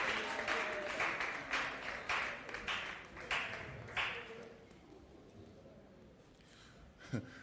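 Church congregation applauding the singers: bursts of clapping that swell and ease in waves, then thin out to scattered claps and quiet room noise, with a sharp ping near the close.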